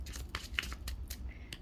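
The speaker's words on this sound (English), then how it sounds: "I just started shuffling" Tarot cards being shuffled close by, a quick series of papery riffles, slaps and crisp rustles in an irregular rhythm.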